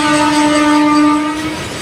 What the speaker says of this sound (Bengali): আর এদিকে আমাদের গাড়ি ঢুকে গেছে।